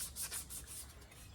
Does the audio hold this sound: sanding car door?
yes